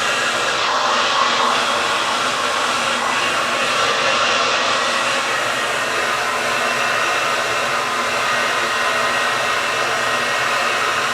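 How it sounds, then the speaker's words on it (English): A hair dryer blows steadily and loudly on weave bundles throughout, a constant close whooshing roar with no pauses and no talking. "Make sure you're drying these bundles."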